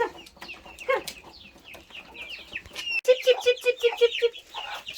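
Chickens cluck in a farmyard, a busy scatter of close, overlapping calls, then a quick run of about seven rhythmic clucks, with no talking heard.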